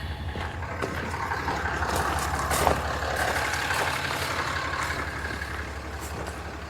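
A truck or similar heavy vehicle makes a short drive on a farm, its steady engine rumble and road noise continuous throughout, loud and close with no talk.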